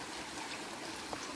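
A river flowing beside a well in the countryside: a steady, broadband wash of running water, faint and continuous throughout, with no voices.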